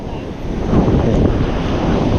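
Ocean surf washes steadily nearby as a loud, continuous roar buffeted by wind on the microphone, with faint voices under it.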